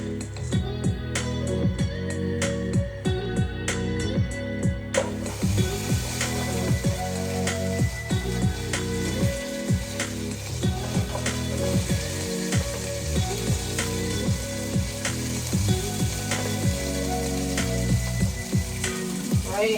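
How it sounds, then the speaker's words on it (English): Broccoli sizzles loudly as it drops into hot oil for a chicken stir fry, a steady dense crackle and hiss with clattering pan and spatula knocks throughout, no voices. "Add a little bit more oil. And start adding in our broccoli."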